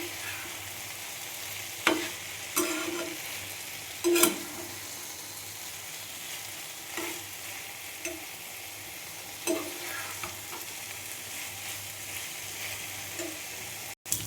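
Small fish and potato curry (chuno maach bati chorchori) cooking uncovered over a medium-high flame, a steady soft sizzle with occasional stirring clinks and scrapes spaced through the stretch, no voices.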